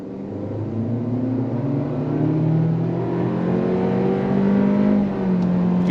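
A 2023 Honda CR-V hybrid accelerates at full throttle in sport mode, its engine note rising steadily with stepped simulated shifts, droning loud and close from inside the cabin with no talking.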